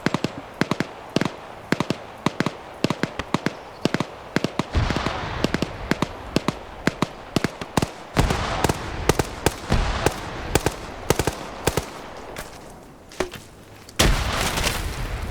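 Gunfire and grenade launcher shots in a shooter video game: a long barrage of rapid sharp cracks and pops, with heavier booming blasts mixed in, dense and loud, without pause.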